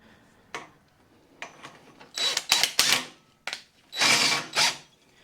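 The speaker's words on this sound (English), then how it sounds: "So this is my pretty much last drill on its last leg at the house." A worn-out power drill cuts during work on a bagged truck's gas tank, running in several short, harsh bursts of whirring and grinding, close and loud, with quiet gaps between.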